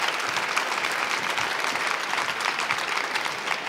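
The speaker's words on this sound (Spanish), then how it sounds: "un fuerte aplauso" Audience at a fashion design award ceremony claps in a dense, continuous round of applause, even and fairly loud throughout with no pause.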